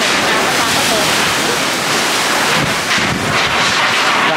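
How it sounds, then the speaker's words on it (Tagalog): Strong typhoon winds rage outside a house in Laguna during Typhoon Kristine, a loud, continuous broadband roar that holds steady throughout with slight surges and no pauses. "Lakas ng hangin sa labas."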